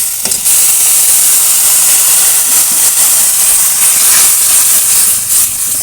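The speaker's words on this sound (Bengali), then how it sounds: "এবার অল্প একটু জল দিয়ে তারপর গ্রেভিটা বানিয়ে নেব" Water hits the hot pan of frying Bengali mustard fish curry and a loud, steady hiss of steam and sizzling fills the whole stretch, starting abruptly and holding bright and close throughout.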